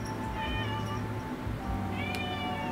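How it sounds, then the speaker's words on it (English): A cat meows repeatedly and insistently up close, its calls standing out over a steady background hum. "oh no, needy kitty."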